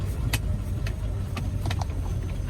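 A dump truck hauling broken concrete rolls out of a dump site, a steady low engine rumble up close with a few faint clanks and knocks over it.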